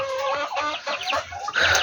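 Two hill chickens clucking close by, a short burst of repeated throaty clucks and squawks rising louder toward the end, with no speech.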